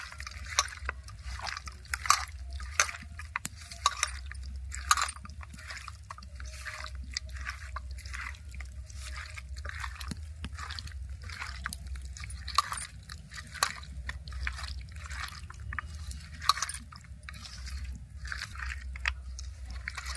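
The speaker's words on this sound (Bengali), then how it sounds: "সবগুলো উপকরণ খুব ভালোভাবে হাত দিয়ে মিশিয়ে নেব" Fish spice paste of ground white mustard and cumin being mixed with oil by hand, giving soft, wet squelching and smacking sounds that repeat in an uneven rhythm over a low steady hum, with no talking.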